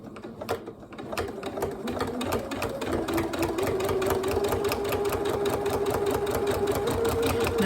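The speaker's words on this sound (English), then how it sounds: "So I'm going to do that over at the sewing machine." A sewing machine runs a straight stitch along a cushion in orange thread, its needle clattering in a steady, fast rhythm that starts in bursts and settles into continuous, close, fairly loud running with no talk.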